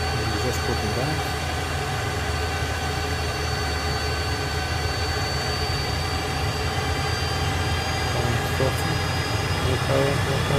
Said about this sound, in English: So I'm applying the throttle in an attempt to take off vertically.